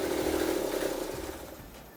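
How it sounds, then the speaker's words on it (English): A small two-cylinder Daihatsu Midget engine idles steadily and close up, with a rough, smoky low throb that holds even for two seconds and eases slightly toward the end, no voices over it. "It's already idling better than it ever has."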